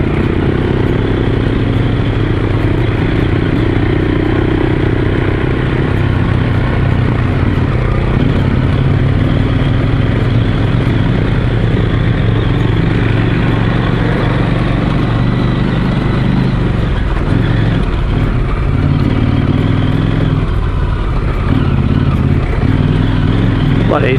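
A motorcycle ridden slowly over a rocky track in Sundown National Park, its engine droning steadily and loudly throughout, with clattering knocks and thumps from the rough ground under the bike.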